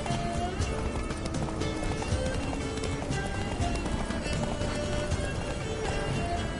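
Geralt's horse Roach galloping in The Witcher 3, a steady rapid clatter of hooves with continuous close, loud rhythmic beats and background game noise.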